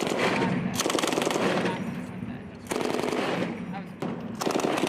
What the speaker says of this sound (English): At least they're shooting real guns.